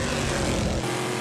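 An aluminum-block, titanium-valve V8 race car engine screams at full revs during the 2011 Petit Le Mans, a loud, dense, high-pitched roar that drops slightly in pitch as it passes.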